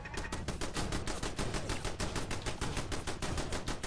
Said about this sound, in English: These turrets are great.